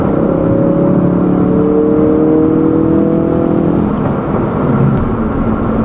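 A 2016 Ford Focus RS pulls hard in fourth gear, its engine a loud, steady, close drone with rising tones as it gains speed, and no one speaking.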